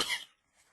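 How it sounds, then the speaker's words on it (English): A single short, sharp cough close by, fading quickly into quiet. "I just have to take time off to cough every couple of minutes."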